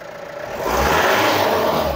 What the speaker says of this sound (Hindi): देखो जैसे मैं एक्सीलेटर दबाता हूँ ना, पूरी रेस हो रही है गाड़ी अब।